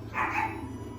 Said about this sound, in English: They're dogs, they can't talk.